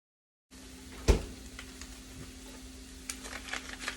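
A pound and a half of Italian sausage sizzling in a pan, a soft, steady crackle with a sharp clatter near the start and faint patter continuing quietly throughout.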